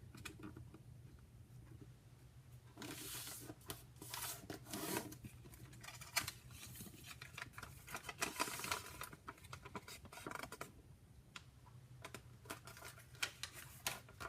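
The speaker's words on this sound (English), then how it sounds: "so I can go ahead and fold my paper first to the crease I just made." Origami paper being folded along a fresh crease for a traditional Chinese vase, heard as soft, close crinkling, rubbing and tapping of paper in irregular bursts, with no talking.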